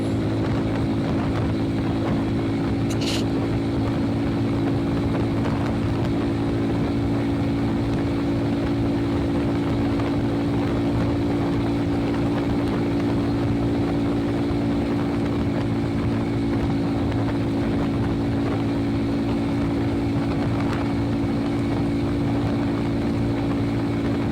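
A steady, loud Kry 200 motorcycle engine drone with constant wind rush continues throughout, cruising at speed.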